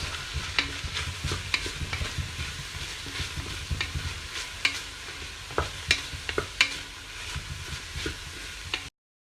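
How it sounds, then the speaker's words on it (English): Onion fries in oil in a pan for lasagna sauce, a close, continuous sizzle broken by repeated scraping and clicking stirs. "the onion goes in. Just cook that for about a minute."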